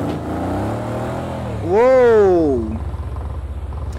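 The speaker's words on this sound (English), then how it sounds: "I just easily pushed the throttle in third gear and we just spun out of control" A car accelerating hard in third gear on an ice arena track spins out of control. The engine rumbles, then a loud rising-and-falling rev swells for about a second before settling back to a low idle, with a voice shouting over it.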